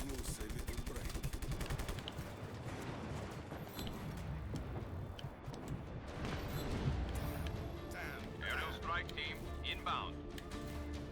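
Gunfire and airstrike explosions in Just Cause 3 form a dense, continuous barrage of shots and blasts with loud crashes throughout, with a voice talking now and then over the combat.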